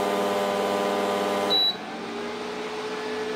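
Greenchef Vimaxo induction cooktop with its cooling fan running as a steady electrical hum; a short high beep sounds partway through, then the hum continues more softly.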